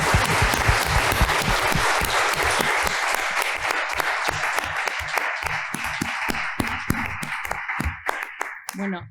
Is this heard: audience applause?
yes